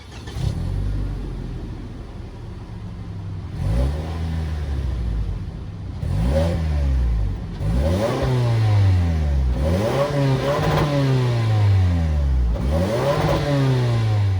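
A 2022 Toyota Camry XSE with a 2.5-liter four-cylinder engine revs up close and loud, with repeated rising and falling blips over a steady idle, and no talking.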